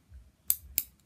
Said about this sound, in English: My hemostats, they're curved and they lock